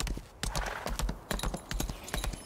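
Horse hooves clip-clop in the video game Lost Ark, a brisk irregular run of close, sharp hoof strikes with brief pauses, no speech.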